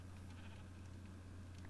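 Sheep bleating in the Craft of the Titans video game, a few faint calls over a steady low game hum and background noise.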